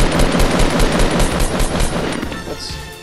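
Rapid automatic gunfire from guns in a shooting video game, a loud dense burst of shots rattling continuously before easing off near the end.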